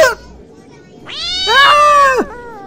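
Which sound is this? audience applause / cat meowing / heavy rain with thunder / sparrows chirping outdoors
cat meowing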